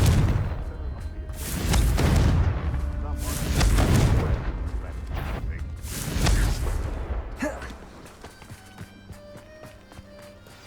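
Confringo fire-blast spells exploding in Hogwarts Legacy, several heavy booming blasts spaced a couple of seconds apart, loud and close, then fading into quieter footsteps and ambience.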